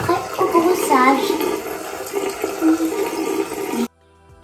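Water running from a bathroom tap during a child's evening routine before toothbrushing, a steady splashing flow with voices over it that cuts off abruptly near the end.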